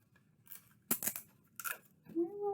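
Sticky tape being pulled and torn off the roll to fasten construction paper rolled into a tube, with a few quick sharp ripping bursts close by in a quiet room, followed by a faint voice.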